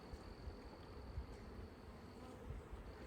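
Honey bees buzzing steadily around an open hive during a spring inspection, a continuous low drone with a few louder passes close by, no talking.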